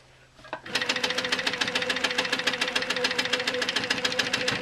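A sewing machine stitches a cream quilt block for a San Juan pattern, running in a steady fast rhythmic chatter after a brief start, close and loud with no talk.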